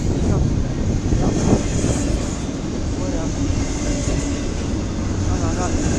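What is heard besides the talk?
passing CSX freight train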